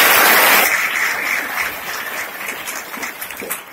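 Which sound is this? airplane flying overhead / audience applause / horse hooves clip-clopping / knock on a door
audience applause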